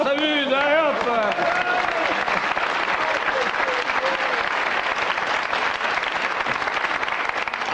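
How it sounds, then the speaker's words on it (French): A studio audience applauds on a French TV talk show from 1993. Dense, steady clapping fills the clip at constant loudness, with a voice talking briefly over the opening moments. "On applaudit, on s'amuse, allez hop!"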